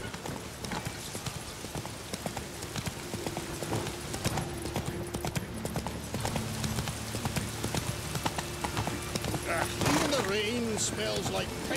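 Hooves of Roach, the horse in The Witcher 3, clip-clopping at a steady walking rhythm through a town, with game music and voices talking underneath.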